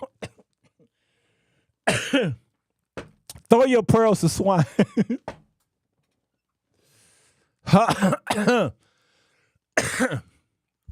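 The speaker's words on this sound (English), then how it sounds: "when I'm coughing like this" A few short coughs and throat-clearing bursts, close by, separated by stretches of a person talking.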